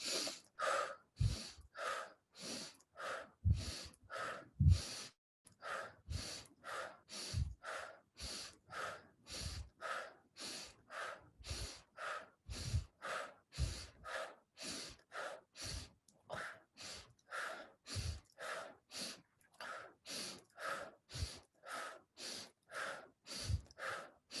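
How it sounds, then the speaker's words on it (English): Rhythmic breathwork with repeated sharp inhalations through the nose, each followed by an exhale, continuing in a steady fast cycle for over twenty seconds, close and fairly quiet. "breathing in through the nose"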